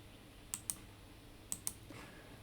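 Four soft, sharp clicks in two pairs as numbers are tapped into a calculator, quiet and close against a faint room hiss.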